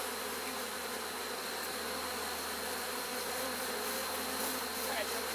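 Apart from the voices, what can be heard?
honeybees buzzing in an open hive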